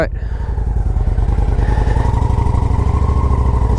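Honda Shadow Aero 750 motorcycle with about 10,000 miles, started without choke: the engine fires up and settles into a loud, close, rhythmic idle.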